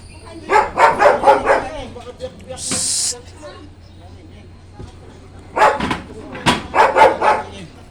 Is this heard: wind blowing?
no